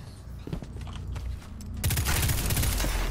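Gunfire at a target in Destiny 2: scattered quiet shots and clicks at first, then a louder continuous stream of rapid weapon fire over the final second and more.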